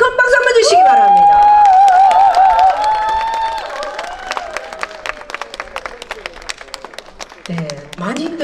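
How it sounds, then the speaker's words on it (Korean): Audience at a wheelchair walking festival and song contest applauds a Korean janggu dance troupe's opening performance, a burst of clapping and cheering that fades under a host's amplified voice. "다시 한번 큰 박수 한번 주시기 바랍니다."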